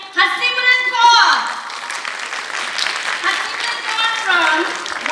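Applause from an audience at a school arts festival programme, a steady wash of clapping filling the hall over a backdrop of tonal music and voices, loud throughout.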